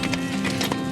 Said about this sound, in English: But I am on a horse!